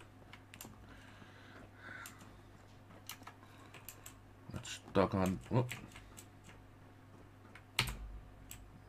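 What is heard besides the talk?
computer keyboard typing while playing Fallout 4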